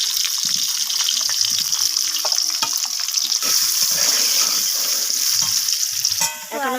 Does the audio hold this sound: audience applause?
no